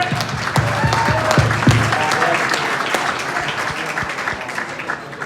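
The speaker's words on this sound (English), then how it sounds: "Round of applause." An audience applauds after a speech at a community event, steady, loud clapping from a sizeable crowd that holds its intensity for several seconds with a faint murmur of voices underneath.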